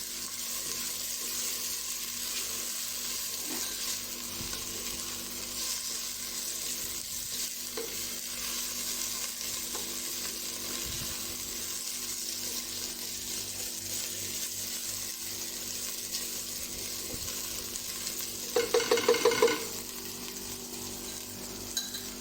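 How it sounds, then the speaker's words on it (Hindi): Steady sizzling of ginger, garlic and red chili frying in a hot pan, with occasional stirring and a brief burst of clattering near the end. "अदरक लहसुन और रेड चिली वो ऐड करनी है, ताकि ये अच्छे से साथ ही कुक हो जाए।"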